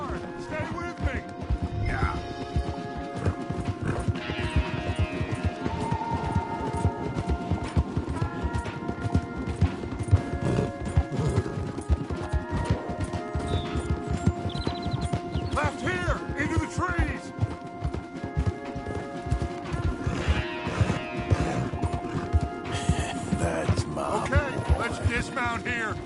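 Rhythmic hoofbeats of horses galloping in Red Dead run continuously beneath layered game music and sound effects, steady and moderately loud throughout.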